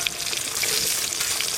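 Hilsa fish fries in the oil released from its own flesh, giving a steady, bright, close sizzle with no talk over it.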